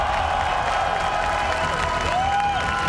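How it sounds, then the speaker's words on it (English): A large crowd at a Dota 2 esports tournament final applauds and cheers steadily, a dense wash of clapping with scattered whoops and a rising whistle near the end. "please, a round of applause for your champions!"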